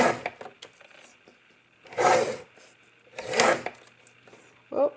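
Three separate rasping strokes, each about half a second long, from a paper trimmer slicing through card stock, close up with short quiet pauses between them and a brief fourth cut at the end.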